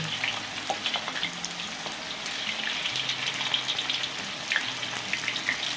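Steady crackling sizzle of gourami fish and tofu frying in plenty of hot oil, continuous and close, with small pops scattered throughout and no talking.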